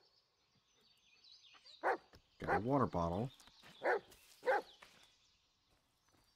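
A dog in a video game barks several times in short, loud bursts with a whiny, pitched edge, spaced irregularly against a quiet background while a person speaks briefly.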